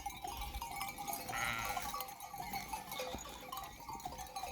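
Sheep bleat in a village flock with goats nearby, one clear bleat standing out midway over a busy, steady background of animal noise and faint clanking.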